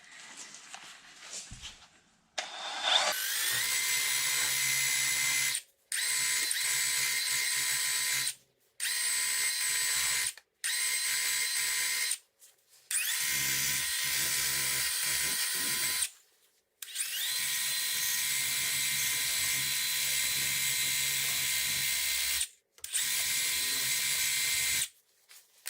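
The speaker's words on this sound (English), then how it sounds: "grind the paint off of the mounting surface for the caliper bracket" A power grinder strips paint from the caliper bracket mounting surface on a B5 Audi A4 race car, a high, buzzing whine in repeated bursts of a few seconds each, separated by short pauses, close and loud.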